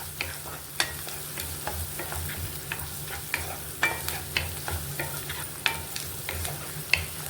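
Onions fry in oil in a pan for gongura curry, crackling steadily with a spatula scraping and clattering in repeated sharp stirs throughout, close and moderately loud, with no talking.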